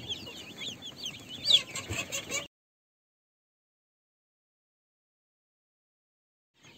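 Five-day-old broiler chicks in a brooder give a rapid stream of high, thin peeps for a couple of seconds. Then the sound cuts to near silence, with a faint trace returning at the very end.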